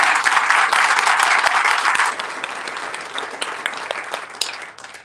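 Loud crowd applause at a groundbreaking event honoring Randy and his crew, dense clapping that holds strong for two seconds and then thins out and fades.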